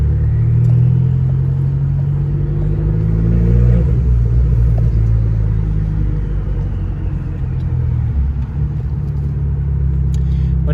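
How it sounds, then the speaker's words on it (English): Abarth car engine idling with a low, deep grumble, a steady loud rumble that swells slightly and continues unbroken. "is that low tone, deep grumble, and it's got so much torque"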